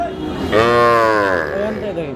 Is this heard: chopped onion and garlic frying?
no